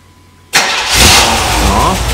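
A 1979 Chevrolet engine turns over and catches after a quiet moment, bursting into a loud, rough running roar that holds steady for the rest of the moment.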